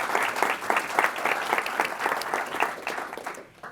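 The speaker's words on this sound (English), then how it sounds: "So let's give him a round of applause for it." An audience at a university speaker series claps for a guest, a lively round of applause with uneven swells that tapers off toward the end after nearly four seconds.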